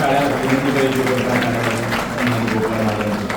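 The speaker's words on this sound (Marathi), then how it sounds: "सर्वांना टाळ्या विनंती करायची" Audience applause fills a felicitation ceremony for a Varkari kirtankar at the Dnyanoba Tukoba award event in Deulgaon Sakar, a steady dense patter of clapping that runs throughout alongside a voice and some tonal background sound.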